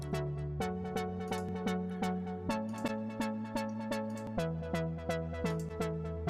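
Steady chords repeat in a driving rhythm with a thin, lean low end from EQ cutting the lows, clear and up front with no voices.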